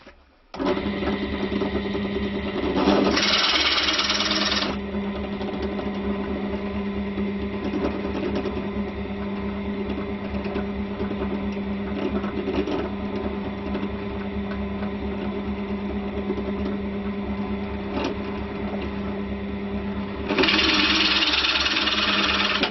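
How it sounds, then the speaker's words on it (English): Drill boring out waste wood from a stick dulcimer neck, a steady mechanical whine and rattle running continuously with brief louder bursts near the start and end as the bit bites into the wood. "So what we're going to do now, we're going to just drill out the waste."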